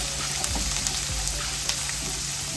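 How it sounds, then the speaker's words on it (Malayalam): Two medium onions sautéing in a pan over medium heat, a continuous close sizzle with faint hiss and a few soft clicks of a stirring utensil, no voices. "2 മീഡിയം സൈസ് സവാള ഇരുന്നത് അതിട്ട് കൊടുക്കാം. ഇത് ചെറുതായിട്ടൊന്ന് വഴറ്റിയെടുക്കാം."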